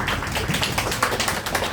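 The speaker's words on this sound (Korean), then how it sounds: "박수 한번 쳐주시면 좋을 것 같아요" Audience applause at a Korean music book concert, a short burst of steady, even clapping from a room of people.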